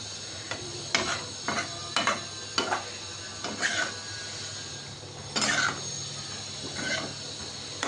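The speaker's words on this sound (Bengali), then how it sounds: "সেদ্ধ করে রাখা এঁচড়টা দিয়ে দিলাম।" Boiled jackfruit and fried potatoes are stirred in a hot pan, with repeated scraping strokes at a steady rhythm over a soft, continuous sizzle, close and fairly quiet with no talking.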